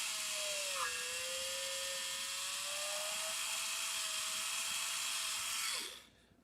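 A small rotary tool spins a 0.5 mm CNC bit, reaming out a tiny hole in a Titanic scale model. It gives a steady, close, high-pitched whine that holds for about six seconds, with a slight pitch dip early on, then cuts off abruptly. No one speaks.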